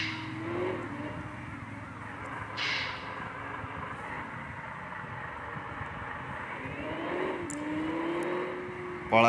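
Rolls-Royce car engine in a racing video game, a steady close engine drone that rises and falls with revs, with a brief whooshing sweep and tire-like skids over continuous road noise.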